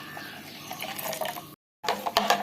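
Water is poured into carrot, ginger and lime juice, a close, bright splashing stream that breaks off briefly and then resumes.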